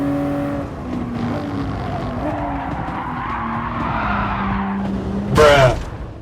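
A Toyota GR Supra RZ '20 in Gran Turismo Sport understeers, its tires skidding in a long steady squeal over the engine note, ending in a brief loud scrape.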